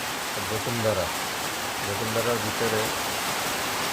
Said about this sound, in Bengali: প্রচুর বৃষ্টি হইতেছে, প্রচুর বৃষ্টি